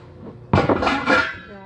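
Cooking pots clank in a home kitchen, one sharp metallic bang followed by several quick rattling knocks and clinks over about a second, close and fairly loud, then fading.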